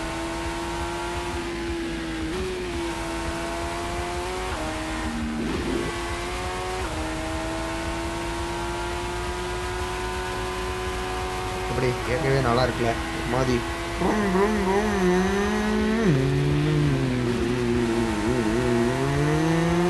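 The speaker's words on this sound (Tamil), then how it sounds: "நீங்கள் வந்து இந்த காரோட சவுண்டு கேளுங்க." A monoposto single-seater race car engine drones steadily on a circuit in the Netherlands, rising and falling in pitch as it revs and shifts, with someone speaking over it throughout.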